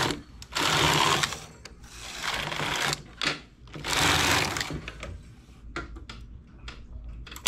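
A domestic knitting machine with a ribber attached runs in long whirring, rattling carriage passes, two strong sweeps separated by quieter mechanical clicks and shuffles, close and loud with no voices.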